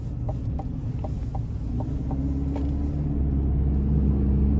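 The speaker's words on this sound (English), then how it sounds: "Now the sound you get from the Turbomax powertrain just puts a smile on my face." A 2.7 Turbomax engine in a 2025 Chevy Silverado 1500 LT Trail Boss rumbles steadily under way from inside the cab, a low drone rising slightly in pitch, with faint ticking over the top.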